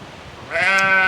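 An older Icelandic ewe, a flock leader on a farm, gives a single loud, close bleat that starts midway and holds to the end, after a quiet outdoor lead-in with no talking.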